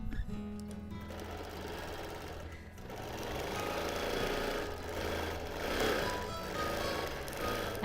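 A quilting machine runs steadily through free-motion edge-to-edge stitching, with a continuous close mechanical hum and rapid needle chatter that rises and eases slightly over several seconds; no one speaks.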